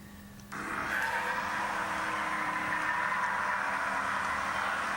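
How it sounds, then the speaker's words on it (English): A steady, loud engine roar sets in after a moment and holds continuously, like motorcycles running hard at a distance. "That's just the motorcycles"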